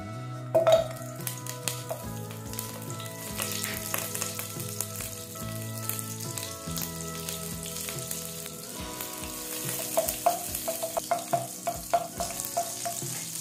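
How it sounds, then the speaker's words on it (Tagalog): Butter melting and sizzling in hot oil in a frying pan, a steady crackling fizz with occasional louder pops and light clinks of a utensil against the pan, no voices. "Habang patunaw po yung butter natin"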